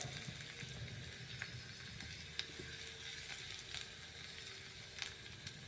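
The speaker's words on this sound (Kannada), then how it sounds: "ಒಗ್ಗರಣೆ ಮಾಡ್ಕೋಣ ಬೆಳ್ಳುಳ್ಳಿ ಹಾಕೋಣ" Garlic sizzles quietly in hot ghee, a steady soft hiss with occasional small pops and crackles.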